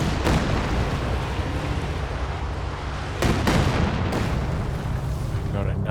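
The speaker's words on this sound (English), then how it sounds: "There's the Katyusha targeting the tanks" Katyusha rocket artillery fires on tanks in Company of Heroes 2, a dense rumbling barrage of booms and blasts with sharp bursts near the middle, continuous and loud, with voices talking underneath.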